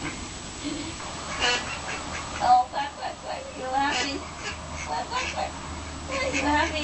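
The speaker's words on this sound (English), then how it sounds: "Oh, quack, quack, quack. You happy? Hey, good ducks." Ducks quacking in short repeated bursts close by, mixed with a person talking to them in a soft voice.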